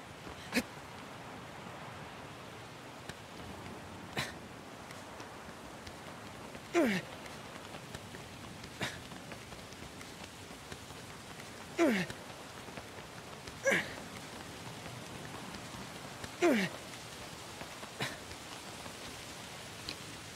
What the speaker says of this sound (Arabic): إنها تمطر. نعم إنها تمطر.